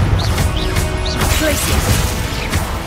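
A Confringo spell cast in Hogwarts Legacy during the Percival Rackham trial sounds as a run of crashing, clattering magical impacts over continuous loud game noise, with a voice partly audible.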